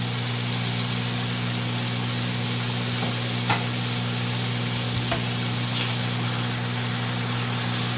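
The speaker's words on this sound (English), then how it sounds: "I have another tablespoon of butter and half a tablespoon of garlic in my skillet." Garlic and butter frying in a skillet give a steady, dense sizzle that holds evenly throughout, with a couple of faint clicks of a utensil against the pan.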